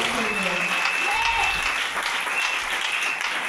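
Audience applause fills a church-like gathering, steady and loud throughout, with a raised voice singing or calling over the clapping.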